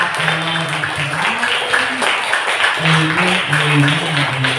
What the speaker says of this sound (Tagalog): Malakas na palakpak ng Yahweh El Shaddai.